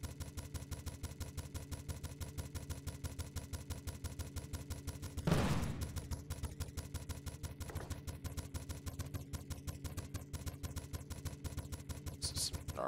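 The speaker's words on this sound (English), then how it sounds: "I'm just trying to get as many shots into his weapons as I can." Rapid, evenly spaced gunfire from a mech combat video game, a dense mechanical rattle of shots running throughout, with a sharper blast midway and a game engine hum beneath.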